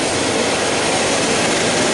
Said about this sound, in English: So, dust extractor, making sure that it's open so it does its job properly.